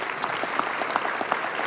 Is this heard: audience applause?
yes